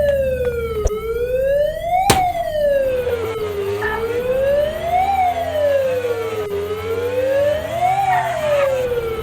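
An ambulance siren in the video game Dude Theft Wars wails loud and near, slowly rising and falling in long sweeping cycles, with a few sharp clicks over it.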